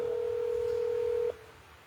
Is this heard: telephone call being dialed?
yes